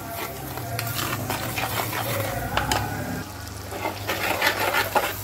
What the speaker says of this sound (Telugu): ఇది కొంచెం టమాటో ప్యూరీ పచ్చి వాసన పోయేంతవరకు ఫ్రై చేసుకుందాము